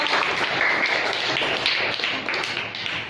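Loud, dense applause from a school quiz audience cheering a child contestant, continuous clapping with a faint whistle-like tone briefly riding on top.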